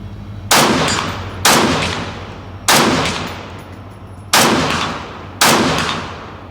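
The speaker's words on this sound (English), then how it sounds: "20 rounds on target, open sights as fast as I could squeeze that trigger." Five sharp rifle shots from a Swiss rifle fired rapidly with open sights, each a loud close crack with a decaying echo, spaced about a second apart, no talk.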